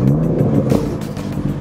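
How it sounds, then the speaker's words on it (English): A BMW F-series GTS engine roars to life with a loud, steady rumble and a brief rev swell partway through, close and continuous with no talking. "Let's hear that GTS startup roar."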